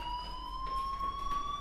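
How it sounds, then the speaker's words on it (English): A fire alarm sounding in the video game Life is Strange, a steady high electronic tone held continuously with a faint pulsing underneath, alone with no voices. "Hey, do you hear that fire alarm?"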